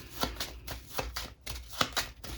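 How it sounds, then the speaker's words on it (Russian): Deck of 36 playing cards being shuffled by hand, a series of close, crisp riffling bursts in a quick uneven rhythm, alone without talk. "Сейчас мы тасуем колоду."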